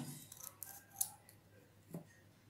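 Scissors snipping paper for a homemade booklet bookmark, a few quiet close cuts in quick succession followed by a single later snip in an otherwise hushed room.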